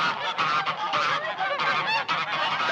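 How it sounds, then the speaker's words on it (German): A flock of geese honking and cackling without pause, loud and close, many overlapping calls as the birds are driven into a stable on a farm. "Fräulein Ulrike treibt ihre schnatternde Herde in den Stall, ins Haus."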